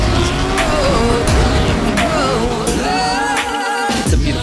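Car driven hard on a race track, the engine revving loudly and close while the tires squeal and skid through corners in repeated shrill bursts.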